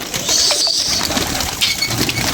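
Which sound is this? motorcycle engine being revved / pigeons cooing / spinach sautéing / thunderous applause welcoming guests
pigeons cooing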